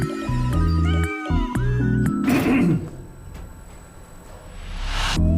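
Several cats meow in quick succession in a Kyivstar mobile app game advertisement, close and clear, the cries rising and falling across the clip with no talking.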